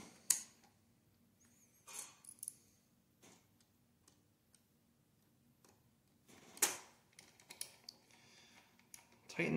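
Small screws are turned in by hand while a Lionel Polar Express toy locomotive is put back together, giving sparse, quiet clicks and ticking scrapes in irregular bursts against a near-silent background.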